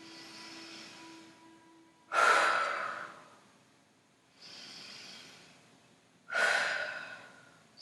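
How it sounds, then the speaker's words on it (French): Yoga breathing during a dynamic vinyasa session: two strong, forceful exhales blown out through the mouth, each following a softer breath in. The breaths are close and clear, with no talking. "à l'expire ici, vous allez souffler par la bouche"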